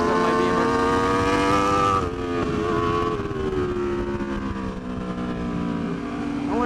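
An Aprilia RSV4 RF superbike screams around a race track, its engine holding a high revving whine that drops abruptly as it shifts and then climbs again, loud and close with faint rider talk underneath.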